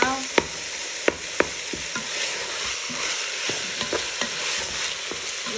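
Bolognese mince browning on the saute setting of a Ninja Foodi, a steady sizzle with several sharp clacks of a utensil stirring against the pot, close and without talk.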